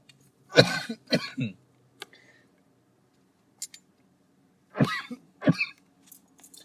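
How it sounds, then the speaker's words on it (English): Two pairs of harsh, close coughs, each a quick double burst, separated by a few seconds of near silence with faint small noises. "cough at everything now."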